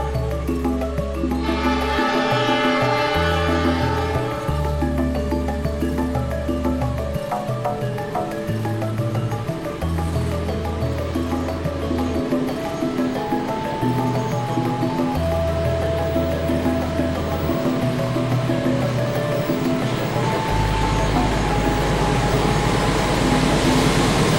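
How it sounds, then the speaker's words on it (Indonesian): Tawang Alun passenger train hauled by a CC206 diesel locomotive passing close by, a loud continuous rumble of engine and wheels with rhythmic low pulses of rolling cars that lasts the whole time. "Kami beruntung bisa mendapatkan momen kereta api Tawang Alun yang ditarik CC206"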